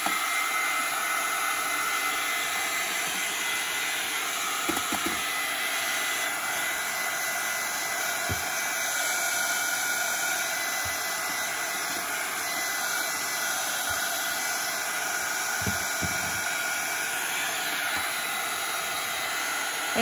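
Hair dryer blowing steadily and loudly on damp pages of a traveler's notebook journal, a continuous close airy roar that runs unbroken with a few soft knocks.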